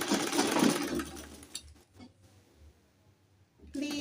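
A sewing machine stitches bias tape onto a dress hem, running in a loud close whir for about a second and a half, then stopping, with quiet handling sounds before a brief restart at the end.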